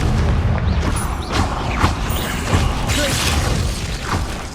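Spells cast in Hogwarts Legacy fill a dense, loud mix of magical whooshes, booming impacts and mechanical clatter, layered continuously over a rumbling game soundtrack during a fight with spiders.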